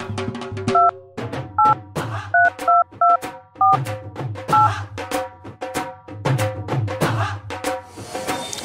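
Telephone keypad dialing tones: a rapid series of about ten short, evenly spaced DTMF beeps, loud and close, with clacking and other noises underneath and between them.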